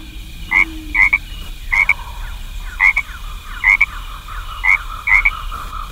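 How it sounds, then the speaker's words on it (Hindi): Frogs croak beside a deep pit, a chorus of short rasping calls repeating in roughly regular bursts about every second, close and clear over a faint low background hum, with no voices. "सारे मेढक एक गहरे गड्ढे के किनारे टर्रा रहे थे"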